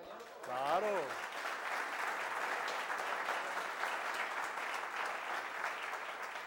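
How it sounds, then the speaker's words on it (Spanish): An audience applauds a speaker named Javier at a talk, with sustained, dense clapping filling the room from start to finish after a brief voice at the opening. "Javier yo creo que merece un aplauso, compañeros"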